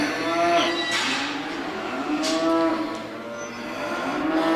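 Cattle moo at a commercial cattle show at a fall fair, with several overlapping low, drawn-out calls filling the pen area in close succession.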